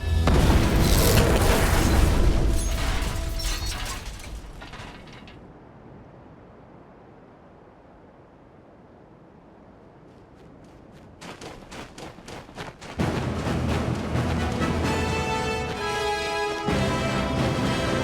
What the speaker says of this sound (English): This place is wired and ready to go up.